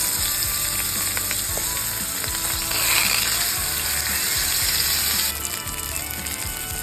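Salmon fillets fry in a pan with a steady, close hiss and crackling sizzle that carries throughout, accompanied by faint clicking and scraping.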